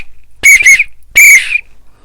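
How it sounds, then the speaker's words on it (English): A steam engine whistle sounds three loud, close blasts: two short toots in quick succession, then a longer held blast, each separated by silence. "You're doing well, whistled Edward, as James slowly struggled up the hill with"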